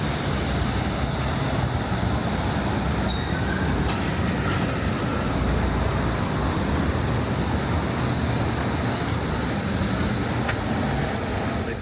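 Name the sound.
Wolmi Sea Train tourist monorail passing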